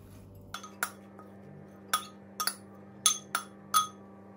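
Spoon clinks against a bowl while a black-eyed pea salad with capers, roasted red pepper, fresh thyme, dill and spring onion is stirred; a series of sharp, separate metallic taps at an uneven pace, no voices.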